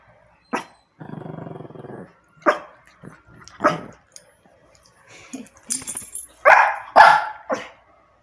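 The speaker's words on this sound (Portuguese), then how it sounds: "Não late, todos latem." Several pet dogs at home bark in short sharp bursts, with a growl mixed in and a few yips, close and loud, separated by brief pauses.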